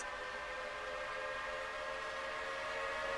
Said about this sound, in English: This is now a nice fun bit of the route where I can really start to take this train up to speed.